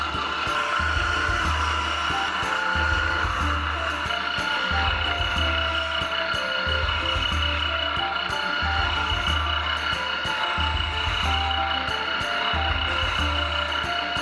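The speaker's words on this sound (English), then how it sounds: "So I'm gonna take this to the spindle sander." A spindle sander grinds grooves into a wooden wand with a steady, loud motor hum and the rasp of abrasive on wood, broken by short repeated dips as the piece is pressed in and pulled away.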